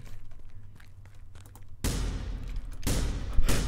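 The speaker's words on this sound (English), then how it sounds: "Did you hear the gunshots?" A quiet stretch gives way to a sudden loud burst of rapid gunfire in the video game The Final Station that continues in dense volleys, with another surge near the end.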